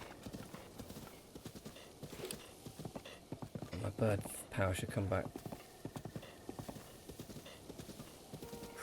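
Horse hooves clip-clopping steadily as a rider travels in Zelda: Breath of the Wild, a close rhythmic trot with a whinny partway through, under someone talking.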